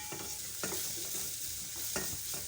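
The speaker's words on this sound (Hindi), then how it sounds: "तो हम थोड़ा सौते करेंगे।" Chopped garlic and half a small onion sautéing in oil in a pan, a faint steady sizzle with a few soft stirring scrapes, no voices.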